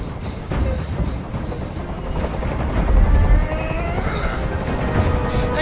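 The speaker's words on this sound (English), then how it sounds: "I can't stand that noise anymore. Tell that helicopter to get out of here." A helicopter in the video game Detroit hovers overhead, a loud continuous rumbling drone with low thumping and some crashing bursts over several seconds, no talk.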